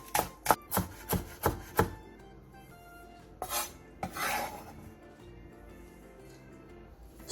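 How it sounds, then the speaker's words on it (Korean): Six sharp knife chops on a cutting board as half a Korean green onion is sliced finely, evenly spaced over the first two seconds, then a few scattered board clatters and a scraping sweep, close and clear with no talking. "대파 2분의 1개를 쫑쫑 썰어주세요"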